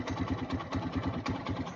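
A Hero Karizma-R motorcycle engine idles at about 1000 rpm, giving a steady, close, low-pitched rhythmic chug with even pulses throughout and no voices.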